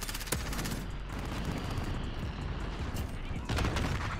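Dense, continuous gunfire and explosions from a VTOL gunship raining fire on a hardpoint in Call of Duty: Modern Warfare, a steady roar of rapid shots with sharper blasts near the start and end.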